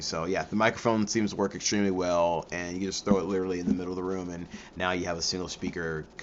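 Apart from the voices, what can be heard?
No everyday noise stands out behind the speech.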